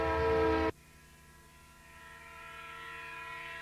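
A loud, blaring train horn sounds briefly, then cuts off, leaving a steady lower tonal drone that slowly swells.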